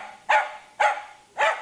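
A dog barks three times at an even pace, fairly close and clear, during fear-aggression training, with no talk over the barks.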